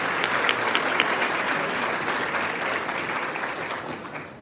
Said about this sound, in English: Clap your hands all over the world.